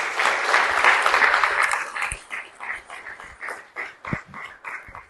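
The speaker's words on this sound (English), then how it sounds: "Let's give them a round of applause." A room applauds during the opening ceremony of the Indoor Africa Hockey Cup women's event, Namibia vs Zimbabwe. The clapping starts dense and full, then thins into scattered claps that fade toward the end.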